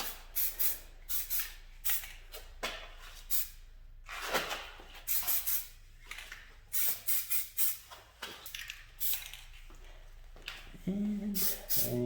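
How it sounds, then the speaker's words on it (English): Spray paint mists in short and longer bursts onto car mirror caps, a loud close hiss pulsing on and off, with a brief tonal rattle near the end. "go ahead and just give it a light mist everywhere"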